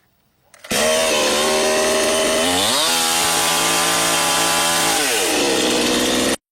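A chainsaw roars to life abruptly and runs loud and close for several seconds, its engine note rising and falling as the throttle is revved, then cuts off sharply.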